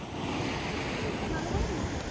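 Sea waves break and wash on a beach in Sicily, a steady broadband roar of surf with some wind across the whole stretch. No speech is heard.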